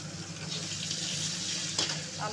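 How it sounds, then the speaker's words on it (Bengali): Potatoes frying in a pan, a continuous moderate sizzle with a soft clink partway through and faint background noise. "আলুটা আমি ভালো করে ভাজি করে নেব"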